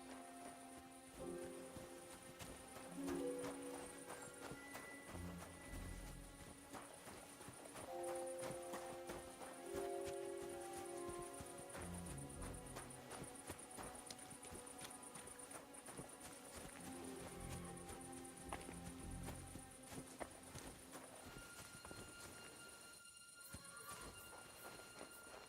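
Horse hooves clip-clop steadily in the medieval game Kingdom Come Deliverance, faint beneath layered musical tones and ambient game sound.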